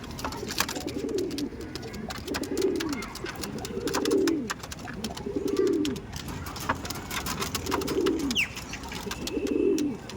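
Pigeons in a loft coo in a slow, regular rhythm, with about six low rolling calls spaced a couple of seconds apart, close and steady against faint background clicks.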